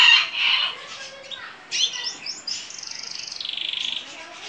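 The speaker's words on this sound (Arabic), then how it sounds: "هذا كناري سوبر فول من طيوري، إن شاء الله جاهز للموسم" A super full canary sings alone up close, a bright run of warbles and chirps ending in a fast, steady trill.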